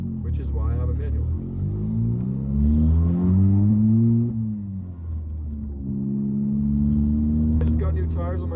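Heard from inside the cabin, a VW MK7 GTI with an exhaust cutout drones deeply through two rising revs that climb and fall, a short pause between them, loud and rumbling.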